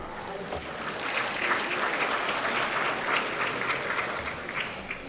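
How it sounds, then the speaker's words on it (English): Audience applause at the Rising 10 Awards 2022 business awards ceremony, a steady sustained wash of many hands clapping from a large crowd, even in loudness throughout with no speech over it. "Let's give him another round of applause."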